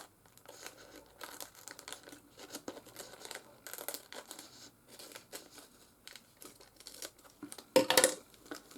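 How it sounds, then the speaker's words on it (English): Scissors cutting away the excess card paper on a handmade double slider card, a run of soft crinkly snips close by with one louder crunchy cut near the end, no talking. "I'm going to cut off the excess because we don't want any extra"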